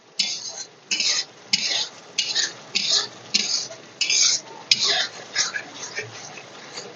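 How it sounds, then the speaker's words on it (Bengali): Spice paste frying in oil in a pan, a series of about a dozen rhythmic bursts of sizzling and scraping as it is stirred, loud and close over a low background. "এবার মশলাটা ততক্ষণ ভাজতে থাকবো যতক্ষণ মশলা থেকে তেল না বেরিয়ে আসে।"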